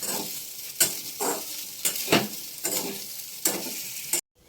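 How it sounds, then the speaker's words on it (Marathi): Leftover biryani reheated in a pan at home, with a steady oil sizzle and a spoon scraping and stirring in repeated strokes about every half second, close up, ending abruptly. "कालची थोडी बिर्याणी राहिली होती ती जरा मम्मी अशी गरम करून देते"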